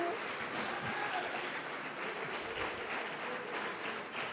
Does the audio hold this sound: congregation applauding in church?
yes